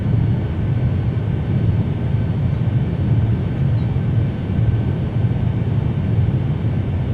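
Steady, loud engine roar of an Avianca 757-200 on approach to land in Flight Simulator X, a continuous low jet drone with no pauses and no voices.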